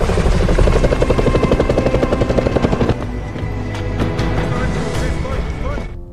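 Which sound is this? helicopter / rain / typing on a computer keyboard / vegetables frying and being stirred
helicopter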